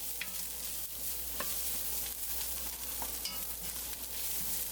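Garlic frying in a pot for sausage potato soup, a dense steady sizzle up close with a spoon scraping and stirring through it at intervals, no talking.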